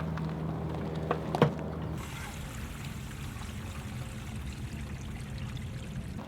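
Liquid from an RV black tank rushes and gurgles steadily through the drain hose after the valve handle is pulled, a continuous close watery flow with a brief clunk near the start.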